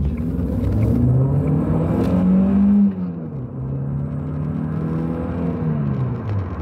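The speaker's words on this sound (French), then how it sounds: "J'avais oublié à quel point le turbo sur cette ancienne génération, malgré sa petite taille, il a du lag." A Volvo 480 Turbo's engine pulls hard through a gear, its rising whine and drone building slowly before an abrupt lift and a lower, steadier hum as it continues driving.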